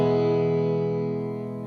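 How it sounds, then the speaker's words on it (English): A sustained guitar chord rings out drenched in reverb from an Eventide H90 effects pedal, fading slowly with a smooth, lingering wash of echo. "that's now just the reverb"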